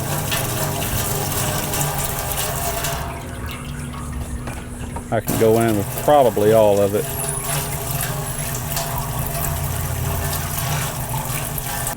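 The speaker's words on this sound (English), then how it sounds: "Getting ready to add the water in." Water pours and gushes steadily into a crab-steaming pot, with a brief pause and a person speaking briefly partway through.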